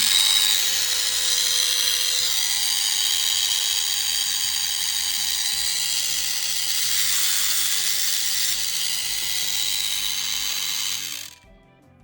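A Dremel 575 right-angle attachment holding a metal cutting disc whines steadily at high pitch, running close and continuous for about eleven seconds before cutting off.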